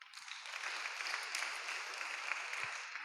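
A church congregation applauds together, a bright, continuous patter of many hands clapping that holds at a fairly even level throughout, heard from a little distance.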